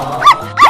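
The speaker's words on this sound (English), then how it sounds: "Lion." A lion in a 3D animal video game gives two short, loud, growling roars in quick succession, each a brief rising snarl.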